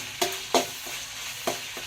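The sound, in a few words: mutton, goat fat, onion and chili frying in pan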